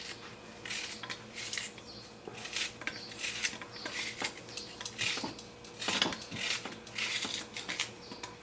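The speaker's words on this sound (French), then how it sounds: "Vous coupez votre oignon en petits morceaux." An onion being chopped into small pieces on a board for Mexican-style rice: rapid, irregular knife taps and clatter, close and fairly loud, continuing throughout.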